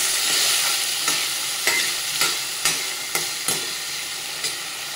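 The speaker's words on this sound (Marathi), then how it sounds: "तर मस्त असं परतून घेते मी मिरची. आता कांदा आणि टोमॅटो घालून घेणार." Onion and tomato being sautéed with chili in a pan, a steady close sizzle broken by repeated stirring scrapes at an uneven rhythm, with no one talking.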